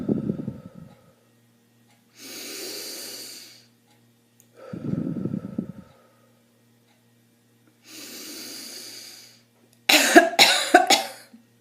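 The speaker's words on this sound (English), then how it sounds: "on the 3rd time, you cough lightly" Light coughs during post-surgery deep breathing exercises, spaced among slow audible breaths in and out, ending in a short cluster of a few soft coughs, close and quiet with no talk.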